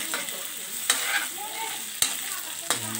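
Garlic butter shrimp sizzle in a hot pan with a steady frying crackle, broken by a few sharp clinks and scrapes of a utensil stirring.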